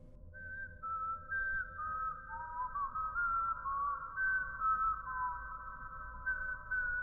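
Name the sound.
man whistling, ghost story sound effect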